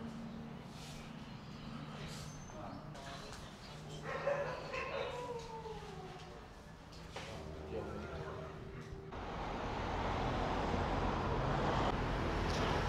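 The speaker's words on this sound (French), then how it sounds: "Beaucoup de chiens." Many dogs barking and yipping at a distance on a rainy street in Thailand, scattered calls over steady background noise and occasional talk, with a louder wash of rain or traffic taking over near the end.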